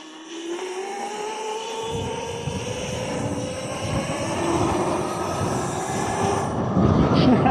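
A custom electric pit bike climbs a trail hill, its rising motor whine climbing steadily in pitch alongside crunching tyre and dirt noise, close and continuous with no talk.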